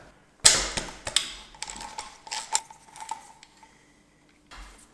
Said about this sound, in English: Alright, so let's remove this heat shield.